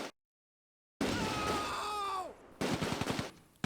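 Machine gun fire in the Close Combat game cuts down a German MG42 squad in the open: a sharp burst after a moment of silence, cries and falling tones, then a fast rattling volley of close shots.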